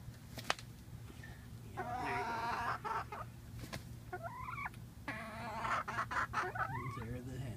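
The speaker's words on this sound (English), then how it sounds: "chickens want to say hi" Hens in a greenhouse cluck and make rising squawks in short bursts over a low steady hum, fairly close, with a person speaking briefly among them.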